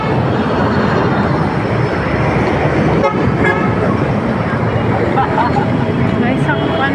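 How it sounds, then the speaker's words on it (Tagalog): Heavy, dense road traffic with a steady wash of engine noise, a car horn toot cutting through partway, and faint voices underneath. "Sobrang traffic."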